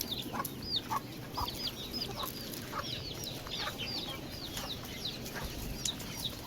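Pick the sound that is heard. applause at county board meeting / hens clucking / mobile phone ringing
hens clucking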